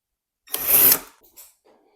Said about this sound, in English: I'm going to just drill a few pilot holes just to make sure they go in the center.